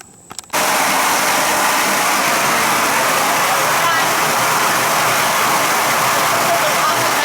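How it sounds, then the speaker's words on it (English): Water running from a leaking pipe inside a house, a steady loud broadband rush that starts abruptly after half a second of quiet and continues unbroken to the end. "I'm hearing water somewhere."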